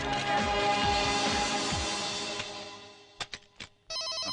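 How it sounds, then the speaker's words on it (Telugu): Phone ringing in a Telugu film scene, heard as a short electronic ring near the end after a sustained musical passage and a few brief sharp hits. "Phone sir."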